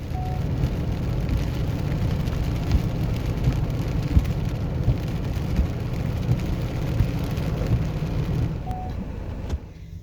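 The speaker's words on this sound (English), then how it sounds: "Since it's raining today, I decided to stop at the Sonoran Desert Museum" Steady rain falls at the Sonoran Desert Museum in the desert, a dense continuous hiss of drops on surfaces with faint distant rumble beneath, no voices.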